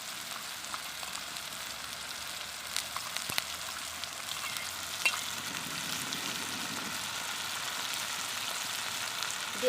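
Paste of ground onion, ginger and garlic sizzles steadily in a hot pan for a Bengali soybean kofta curry, a soft continuous frying hiss with faint stirring clicks, no voices.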